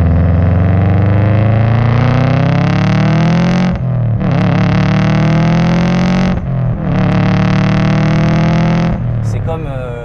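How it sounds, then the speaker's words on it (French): A modified Subaru Impreza WRX's flat-four boxer engine revs hard and loud up close, in three long sustained pulls with short breaks between them. "j'adore le bruit de ronronnement des 4 cylindres à plat Subaru, hein, les moteurs boxer"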